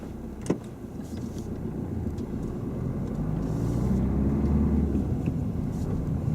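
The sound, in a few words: car driving on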